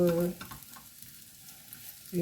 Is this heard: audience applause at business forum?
no